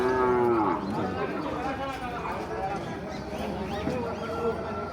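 Cattle at a busy livestock market in Jashore, with a loud nearby moo opening the scene and more lowing further off, under constant crowd chatter and people talking.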